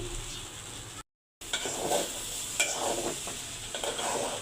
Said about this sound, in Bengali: এই যে চাল ডাল সব কিছু দিয়ে অনেকক্ষণ ধরে আমি এভাবে কষাচ্ছি